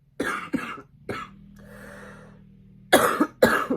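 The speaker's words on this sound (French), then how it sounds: "Parce qu'en plus de renifler, je tousse." Several sharp coughs close to the mic, two at the start and one shortly after, then a steady low hum before two more loud coughs at the end.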